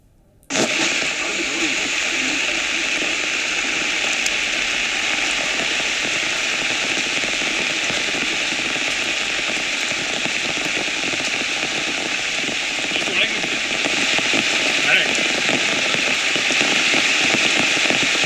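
Heavy monsoon rain in Karnataka's Malnad region pours steadily and loudly, a dense continuous hiss of drops that starts abruptly and holds without pause.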